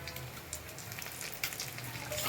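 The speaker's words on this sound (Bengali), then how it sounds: "জিরে আর শুকনো লঙ্কা ফোড়ন দিলাম, আর তেজপাতা" Cumin, dried red chilli and bay leaf frying in hot oil for a prawn curry, a close crackling sizzle with scattered pops, growing slightly louder near the end, no voices.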